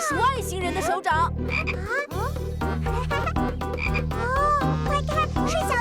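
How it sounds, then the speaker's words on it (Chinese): A small cartoon frog from a children's animated series croaks in a quick, bouncy run of repeated calls, loud and close over a steady musical backing. "快看，是小青蛙"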